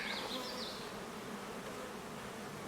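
Honeybees buzzing around an abandoned beehive opened for inspection: a dense, steady swarm drone fills the air, close and continuous, with individual bees whining past near the start.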